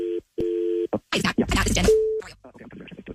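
A telephone busy signal sounds in two short, even electronic beeps, followed by a brief burst of dialing and line noise as a radio station places a call, with a voice speaking over the line afterward.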